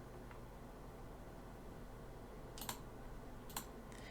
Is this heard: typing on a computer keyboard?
yes